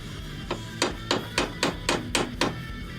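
A peening hammer strikes a vise anvil eight times in a steady rhythm while peening knife handle bolsters, each blow a sharp ringing clank, close and clear.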